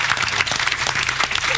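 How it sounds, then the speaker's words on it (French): A crowd at a French live finale applauds competing advertising teams, loud, close and busy clapping from many people, sustained across the moment. "applaudissements s'il vous plaît"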